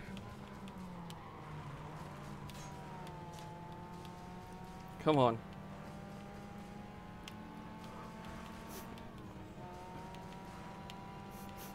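Racing-game car engine in Need for Speed: Carbon, a steady droning hum with shifting pitch running throughout, under a brief spoken phrase from a player.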